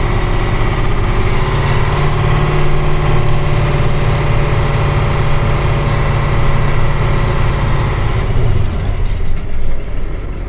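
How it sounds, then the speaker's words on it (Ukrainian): A KAMAZ truck's engine revs hard while the truck reverses, a loud, steady low roar with a heavy droning rumble that drops off near the end as the vehicle settles to a stop. "Беремо зараз задню, газу. Дивіться, задом їду."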